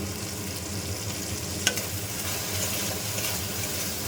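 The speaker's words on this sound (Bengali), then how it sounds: "এটাও ভালো করে এভাবে নাড়িয়ে চাড়িয়ে নেবো, ভালো করে 5 মিনিট এটা হতে দেবো।" Chicken pieces with soy sauce frying in a pan, a steady dense sizzle with a brief clatter of stirring midway, close and continuous, no one speaking.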